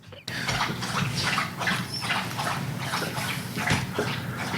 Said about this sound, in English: That is one of the multiple dogs here, currently shoveling water with his face.